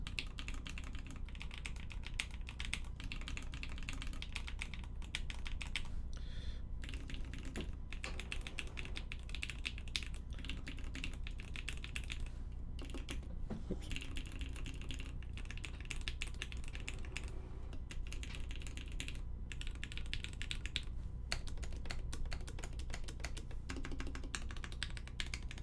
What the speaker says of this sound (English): We get some row typing comparison between the two sides.